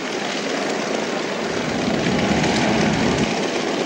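A Hawker Nimrod biplane taxis out at the Duxford Flying Legends airshow, its piston engine and propeller giving a steady, loud, broadband drone that swells slightly as it passes.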